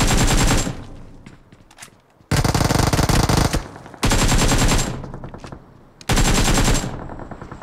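Bursts of rapid automatic gunfire in the mobile battle royale game BGMI, three or four loud sustained volleys separated by brief pauses, close and dominant with no talking.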